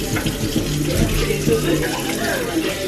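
Tap water runs steadily into a sink during face washing with Panoxyl foaming acne wash, a continuous close hiss with faint talk over it.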